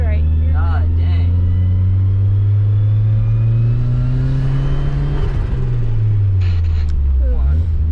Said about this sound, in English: My car drives forward. Second gear is grinding.